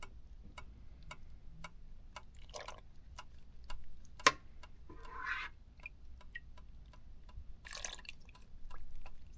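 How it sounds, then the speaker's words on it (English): Wine being ladled from a pot into a bucket by a home winemaker: soft liquid pours and drips between a steady run of faint ticking clicks, with a sharp clink of the ladle midway. "Just ladle some of this wine over into it."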